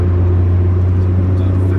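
A JDM-spec Honda DC2 with rectangular headlights idles nearby, its engine giving a steady low rumble and whir with no talk over it.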